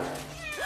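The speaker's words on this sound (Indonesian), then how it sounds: "Oh, ada kucing." A cat gives a short meow, close and clear, a brief rising and falling cry, with a faint tonal hum beneath.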